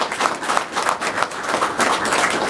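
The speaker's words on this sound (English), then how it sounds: "So I want to give them a round of applause too." A seated audience at a town Board of Selectmen meeting claps steadily, a moderate round of applause from a modest crowd with no talk over it.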